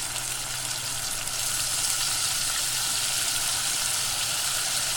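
Chicken with achar gosht masala frying in a pan gives a steady, unbroken sizzle and hiss that runs close and alone throughout.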